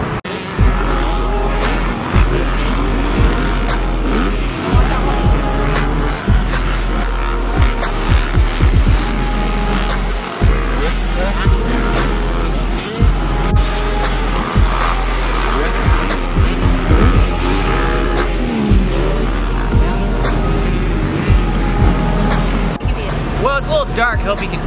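Race cars run practice laps on a track, their engines roaring loud and continuous. Repeated sharp bursts and tire noise cut through, and a voice talks over the engines.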